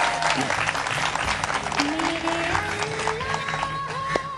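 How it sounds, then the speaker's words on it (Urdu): A studio audience on a morning TV show claps steadily for parents who protested against school fee increases, a dense continuous patter mixed with tonal voices or music over it. "اور آپ سب نے اب مل کے سب سے زیادہ تالیاں بجانی ہیں ان پیرنٹس کے لیے"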